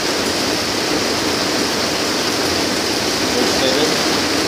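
Rainwater pouring steadily during a storm in Sun City, Arizona, as a constant broadband rush of falling and draining water, with a faint voice in the background.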